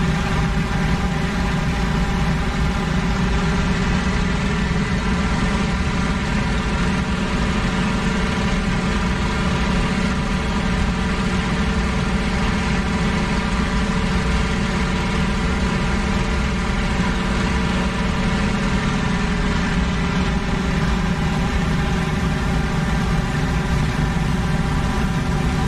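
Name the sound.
aircraft engine running in WWII dogfight video game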